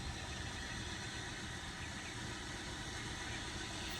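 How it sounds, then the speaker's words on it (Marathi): A car that is leaking coolant runs its engine with a steady, low, continuous drone and no distinct changes in pitch. "गाडी चालली आता गॅरेजला."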